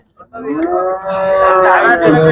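A cow moos loudly and close by at a cattle market, a single long, drawn-out call with a rising strained ending, set against faint background market noise.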